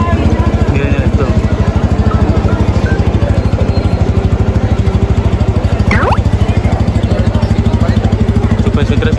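A Pulsar N250 motorcycle engine runs close by with a steady, throbbing rapid pulse and a brief rise in revs, while someone talks over it.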